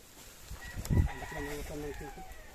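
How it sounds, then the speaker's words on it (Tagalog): A rooster crows nearby in a drawn-out call among clucking chickens in a mountain village, with a sharp thump just before and faint background noise. "Oo, dami nilang manok oh."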